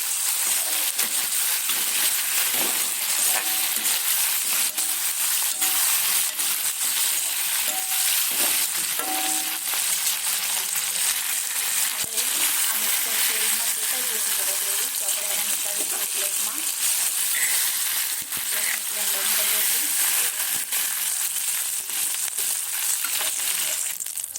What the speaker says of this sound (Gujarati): તેલમાં આપણે શેકવા દઈશું બધા જ મસાલાને।